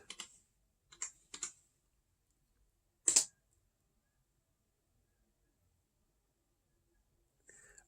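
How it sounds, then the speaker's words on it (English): Typing on a computer keyboard while entering a password: several short, quiet bursts of keystrokes, then one sharper clack and a final soft burst, with silence between them. "Maybe I just typed the password wrong."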